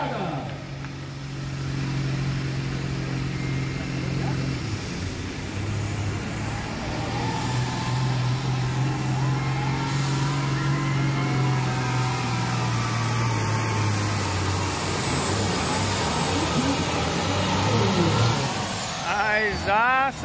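A competition pulling tractor fitted with a Camis 8.3 motor runs at a tractor pull event, its diesel engine droning loud and steady before climbing in pitch, with announcer-style talk and crowd noise over it.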